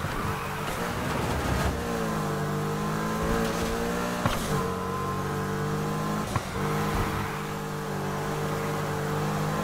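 A Porsche Cayman engine in Need for Speed Heat drones loud and close, rising and falling in pitch with throttle changes and gear shifts, alone without talk.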